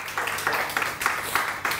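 Studio audience applause on a Pakistani morning television show, a steady wash of clapping at moderate level with rhythmic swells, heard alone without voices.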